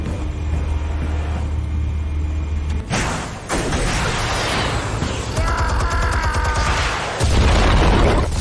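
Explosives detonating in Batman: The Telltale Series, a sudden loud broadband blast that cuts through a low rumbling backdrop, followed by sustained crackling debris and rumble, then a second heavy boom near the end.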